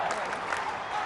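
A crowd at a Sri Lanka versus South Africa Test cricket match claps and cheers steadily at a distance, a continuous wash of applause with commentary talk over it.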